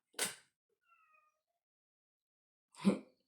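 Two distinct cat meows, close and clear, separated by a quiet pause with a faint chirp between them.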